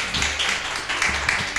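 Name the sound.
congregation applauding in church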